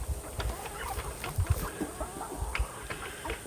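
Young chickens from a backyard flock, about a month old, cluck in repeated short bursts at close range, with soft scratching and steady background hiss and no talking.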